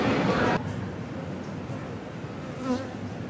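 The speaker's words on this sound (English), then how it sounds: "that is a massive collection of bees on that tree" Buzzing of a massive swarm of bees clustered on a tree nearby, a busy droning hum, with a voice speaking briefly.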